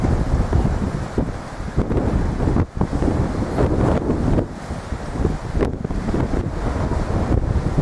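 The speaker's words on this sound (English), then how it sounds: "It's a bit windy here" Strong wind buffets the microphone on a beach in Holguin, Cuba, where big breakers roll beyond a reef; loud continuous roaring gusts with a brief dip, surf blended underneath, no voices.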